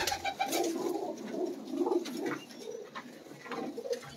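Breeder's pigeons cooing on a rooftop loft, several overlapping soft rolling coos repeating steadily at close range with faint chirps scattered around them.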